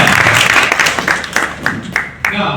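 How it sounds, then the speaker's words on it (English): An audience at a leadership gathering in Uganda claps for a student named Matthew, with a brief burst of close applause that breaks into scattered claps and trails off, overlapping a voice. "Let's clap for Matthew."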